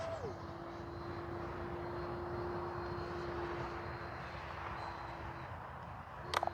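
A Freewing 70mm F9F-5 Panther RC jet makes a low, slow pass with landing flaps down, its steady ducted-fan whine holding one even pitch and filling the air throughout before a brief clatter near the end.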